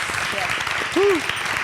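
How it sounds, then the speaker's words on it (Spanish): Brief audience applause at a Spanish interview event for an ice club, a short burst of clapping under a speaking voice, with a faint whistle-like tone in the middle. "Y pues un aplauso para ellas."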